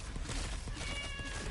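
A cat in a video game meows steadily over a dense, noisy background, a quiet repeated cry lasting about a second and a half.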